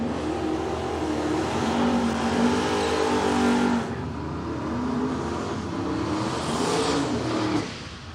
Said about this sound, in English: Two turbo inlets on this Holden Premier. I think from memory it's got an LS in it, twin turbo LS.